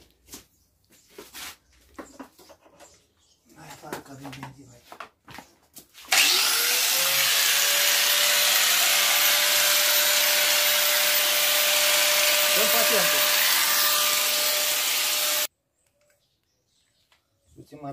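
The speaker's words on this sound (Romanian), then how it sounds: "Îl popolizăm un pic." A power tool spins up and grinds steadily for about nine seconds, polishing a part of a Rizzato Atala two-stroke scooter under repair, loud and close, with talk and knocking before it starts and silence after it stops.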